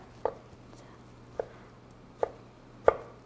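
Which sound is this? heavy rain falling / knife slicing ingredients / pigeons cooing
knife slicing ingredients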